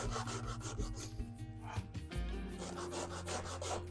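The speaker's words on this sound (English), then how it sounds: "So I can go ahead and sand that by hand" Hand sanding of a small HO-scale model railroad piece gives a steady, close, rhythmic rasping scrub that repeats without pause.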